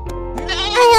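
A cartoon sheep bleats in a short, loud, wavering cry, close and clear, on a farm where sheep live with a blind horse.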